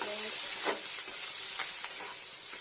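Spices with salt, turmeric and chilli powder fry and get stirred in a pan, giving a steady close sizzle broken by a few scraping strokes, with no talking.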